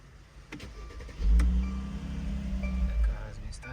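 Mercedes-Benz GLC AMG 43 engine cranking and catching, then settling into a steady low idle with a brief rise in revs, with faint clicks around it in a workshop.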